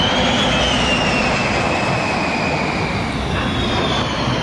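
Military jets fly over a US Super Bowl stadium in a loud, continuous jet roar with a slowly shifting whine as they pass overhead.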